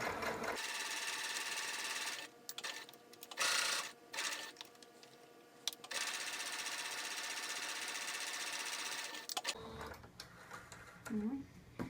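A sewing machine runs close by, stitching the seam of a fabric mask in several loud, steady bursts with short pauses and stop-start pulses between them. A voice speaks briefly near the end.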